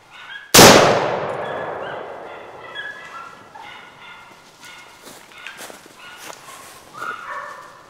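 Hunting dogs bark during a wild boar hunt in a forest, several scattered barks and yelps at middle distance following a loud rifle shot that rings out sharply at the start and decays slowly.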